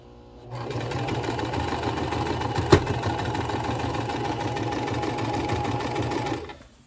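Sewing machine running steadily and loudly up close for several seconds, its mechanical whir carrying a clunking rhythm with one sharp knock midway before it winds down.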